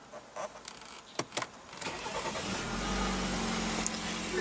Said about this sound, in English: what you're hearing there is BMW's 2-liter twin-turbo inline